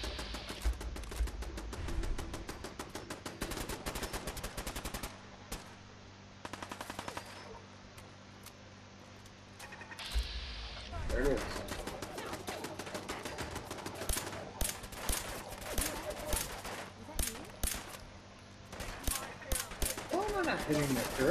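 Turret in Fallout 4 inside the Mass Pike Tunnel, firing long rapid bursts of gunshots with brief pauses between volleys, loud and close, with speech in between.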